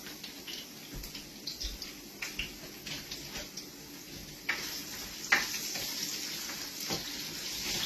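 Garlic mixed with onion is dropped into hot oil in a cooking pot, with light clatter and faint bubbling at first, then a sudden bright sizzle that swells partway through and stays strong and close.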